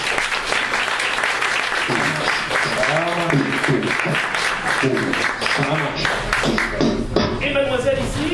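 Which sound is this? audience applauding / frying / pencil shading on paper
audience applauding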